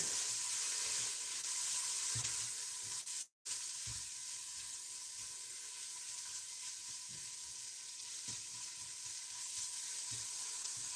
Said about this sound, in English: Stir that around a bit.